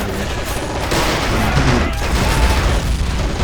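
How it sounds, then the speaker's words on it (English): Loud, dense gunfire and booming blasts in the video game Men of War: Assault Squad 2 rattle on without pause, close and heavy across the whole short stretch. "the gunfire is really loud"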